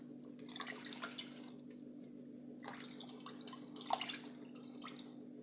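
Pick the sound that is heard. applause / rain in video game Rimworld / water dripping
water dripping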